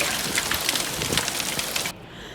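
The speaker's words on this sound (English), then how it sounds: "It was hailing outside too." Hail and rain falling outdoors make a steady, dense hiss of pattering drops that cuts off abruptly near the end.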